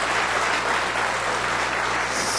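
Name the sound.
audience applause at a poetry recital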